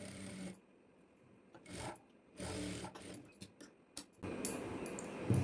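A sewing machine stitches a blouse in several short runs, each a quiet mechanical whir separated by pauses, with the last run louder and longer.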